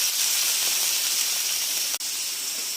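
Ginger sizzling in hot sesame oil in a pan, a loud, steady hiss throughout, briefly broken by a sharp click near the end.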